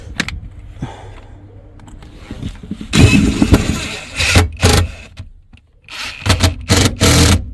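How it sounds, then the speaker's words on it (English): An impact driver runs bolts into in-floor storage bins on a Ram truck, giving loud bursts of rattling hammering in short repeated runs, with quieter handling noise in between. "But I just use a impact driver."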